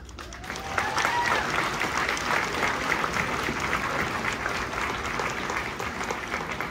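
An audience at an on-stage charity event applauds steadily, a dense, even wash of clapping that keeps going for several seconds at moderate loudness.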